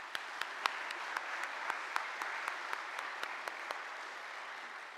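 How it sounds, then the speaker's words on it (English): Audience applause at a Western Illinois University assembly, a steady wash of clapping at moderate distance with a few sharper individual claps standing out, continuous for about four seconds before thinning. "Let's give yourselves a round of applause"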